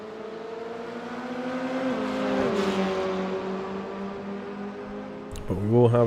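Simulated F4 single-seater race car in iRacing at Catalunya, engine rising in pitch as it accelerates back up to speed, a steady harmonic whine with a sharp upshift near the end, under continuous commentary.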